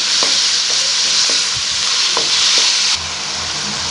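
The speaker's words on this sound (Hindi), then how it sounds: "यहाँ पे इसे फ्राई करेंगे, अच्छे से भुनाई कर लेंगे इसकी हम।" Minced keema sizzles loudly and steadily in a hot pan, with a few sharp scrapes of a spatula as the meat is stirred and fried.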